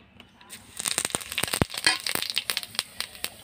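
Whole cumin seeds and a dried red chilli sizzle and crackle in hot oil for a fish curry, a dense burst of close popping and spitting that starts abruptly and continues with irregular sharp crackles.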